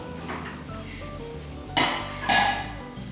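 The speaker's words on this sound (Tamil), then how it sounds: "குக்கர் மூடியை மூடி வச்சிடலாம்" Pressure cooker lid closed over a pot of sweet pongal: soft metal scrapes and then two sharp, close metallic clanks near the end, with no talk.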